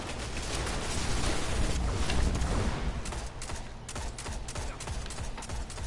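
Super ability gunfire in the Destiny video game during an Iron Banner Rift match: a dense, loud barrage of sharp overlapping shots and booming impacts that swells over the first few seconds, then gives way to scattered bursts over a busy battle din.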